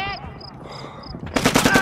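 Rapid automatic gunfire from a weapon in Shellshock 2: Blood Trails, a burst of repeated loud shots that starts abruptly near the end after a quieter stretch of game ambience.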